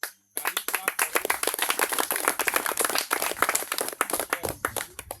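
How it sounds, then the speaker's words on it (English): An audience claps at a senior school event to honor a music teacher, dense continuous applause starting abruptly and holding steady and fairly loud for about five seconds with no talk. "Can you clap for him?"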